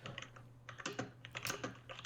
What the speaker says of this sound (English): Furious typing, says Andrew Marlowe